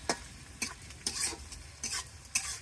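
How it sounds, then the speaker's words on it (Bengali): Meat cooking outdoors in a pot, stirred in five or six distinct scraping strokes over a soft background sizzle, close and fairly quiet, no voices. "মাংস বসাই দিয়েছি"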